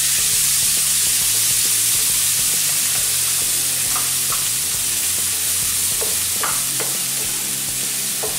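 A steady, loud sizzle as capsicum goes into hot oil and butter in a pan for butter pav bhaji, with a few soft clinks on top of the constant hiss.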